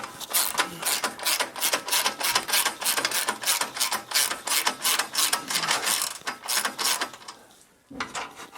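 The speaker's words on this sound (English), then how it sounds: "a deep socket and ratchet on the front. You want to tighten these up equally" A ratchet with a deep socket tightens the X-pipe nuts on a BMW M3, rapid continuous clicking strokes in a steady rhythm, loud and close, ending in a pause and one final click.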